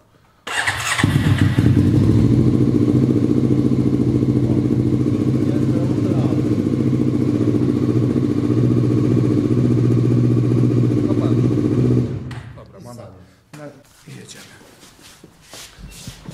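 A Honda CB 500 motorcycle engine runs at a steady idle, loud and close for about eleven seconds after starting, then cuts off to quiet clatter and handling noises. Some speech is faintly present.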